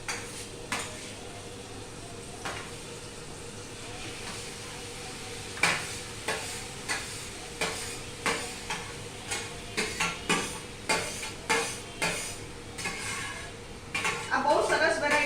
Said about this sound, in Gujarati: અહીંયા ઘી ગરમ જ છે આપણું, કારણ કે મેં હમણાં ફ્રાય કરેલું. એમાં આપણે આ દૂધી નાખી દઈએ 600 ગ્રામ.